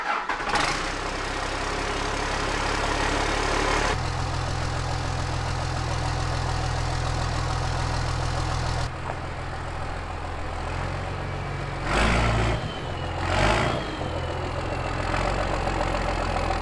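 A 4x4 truck's engine runs steadily at idle and low revs as it pulls out of a snowy garage, a loud continuous rumble with a shift in tone partway through and a couple of brief louder surges near the end.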